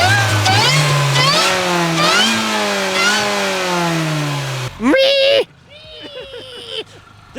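A supercharged Mini Cooper JCW engine revs repeatedly, its whining pitch climbing with each rev, followed by a voice imitating the high supercharger whine.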